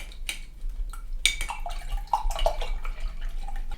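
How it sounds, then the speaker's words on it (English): An acrylic paintbrush is swished and tapped in a water container, producing light splashing, clinks against the container and small drips, close and continuous under a low background hum. "I'm going to rinse off my brush."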